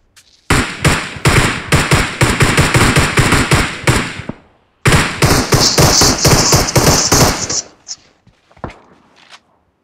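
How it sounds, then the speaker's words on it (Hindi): Gunfire in the mobile shooter BGMI rings out as two long bursts of rapid, loud, close shots, a short gap between them, then a few scattered single shots. "लेफ्ट से गोली चल रही तेरे पे"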